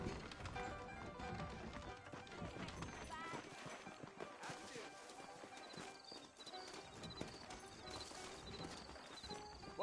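Horse hooves clip-clopping steadily in the Red Dead Redemption video game, a continuous rhythmic trot mixed under music, ambient game sound and occasional talk.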